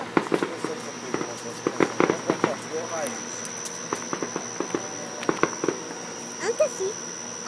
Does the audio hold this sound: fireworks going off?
yes